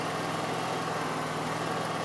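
An Exmark lawn mower engine runs steadily at raised RPM in efficient mode, a continuous close mechanical drone with no breaks or talk.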